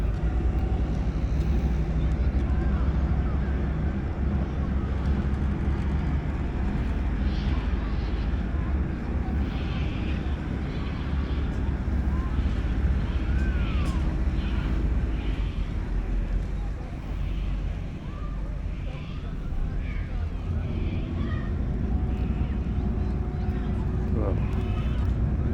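Twin boat engines rumble steadily at close range as the vessel manoeuvres, starboard ahead and port astern, with wind buffeting the microphone over a constant low drone.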